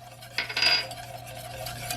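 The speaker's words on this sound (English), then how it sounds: "And whisk as I add them." A whisk stirs brownie batter in a pot, a brief scraping swish of metal against the pan over a low steady hum, with no talking.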